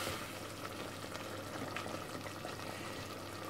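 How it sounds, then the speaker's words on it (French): Ground beef frying in a pan over medium heat while cooking moussaka, giving a steady, continuous sizzle and crackle throughout, close but fairly soft, with no talk. "je laisse ma viande hachée cuire à feu moyen pendant 15 minutes"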